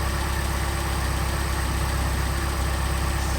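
A Mercedes 190SL with Solex carburetors, not run in a long time, idles steadily too high with a low, even rumble and no other sounds.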